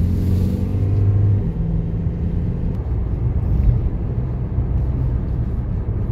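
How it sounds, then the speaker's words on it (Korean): Car driving at high speed, around 80 km/h, heard from inside as a steady, loud low road and engine rumble with no talk. "자, 이제 고속주행 한번 해보겠습니다"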